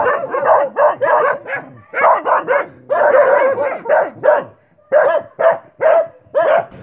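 Loud, close barking from several dogs overlapping in rapid rhythmic bursts, almost continuous, with a few brief gaps.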